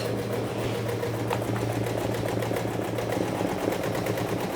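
A computer embroidery machine stitches multi-colour threads with a steady, fast mechanical rattle and a low motor hum, running continuously and close by with no talk.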